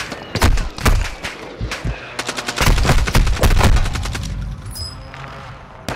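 Gunfire in the game Call of Duty: Modern Warfare II, with loud rapid automatic bursts and heavy single shots hammering close by in dense, overlapping volleys that ease off toward the end.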